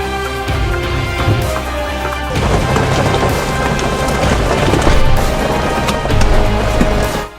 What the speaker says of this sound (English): I started to get a lot of rain and hail